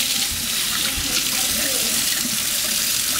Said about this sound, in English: So we just let the water run all the way through and around and try to get under the wings and the legs